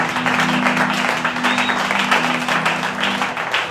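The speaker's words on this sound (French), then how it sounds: "Est-ce que tu peux acclamer pour le Seigneur?" A church congregation applauds for the Lord during a worship service, giving sustained, dense clapping from many hands that fills the room at a steady, loud level, with a low hum running underneath.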